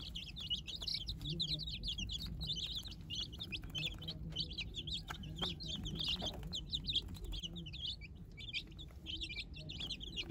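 Newly hatched chicks tucked under a broody hen chirp busily in a rapid, overlapping stream of high peeps, with a soft low murmur and occasional faint rustling beneath them.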